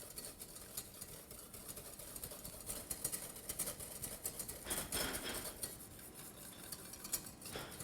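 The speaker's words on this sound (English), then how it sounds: "we're going to whisk that just until you see the first bubble of a boil" A whisk scrapes and clinks rapidly against a bowl or pot as an egg mixture is beaten toward its first boil, a busy metallic rattle with a few louder scrapes, fairly quiet and without talk.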